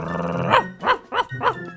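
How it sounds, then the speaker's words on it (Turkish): Dog in the Minecraft video game growling, then barking four times in quick, evenly spaced bursts, close and fairly loud with short gaps between. "İşte köpeğim de geldi."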